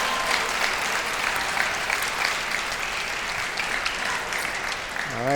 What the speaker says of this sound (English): you can hear the ICC crowd loving that shot